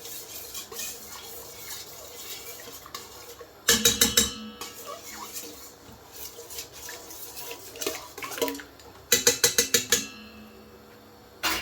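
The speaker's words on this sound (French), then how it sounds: "Donc je vais bien mélanger." Yeast being stirred briskly into lukewarm water in a bowl for bread dough, with two bursts of rapid clinking strokes against the container amid quieter kitchen handling, close and clear.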